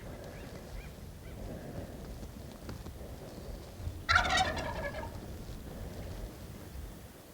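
A wild turkey gobbler gobbles once from a distance in California, a quick burst of rattling notes standing out over soft, steady outdoor background noise.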